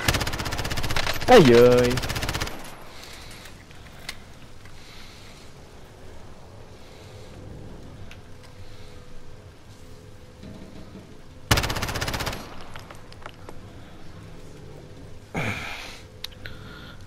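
Automatic gunfire in a Warzone Gulag fight crackles in short bursts near the start, around 11.5 s and again near 15.5 s, with quieter stretches between and players talking and exclaiming over it.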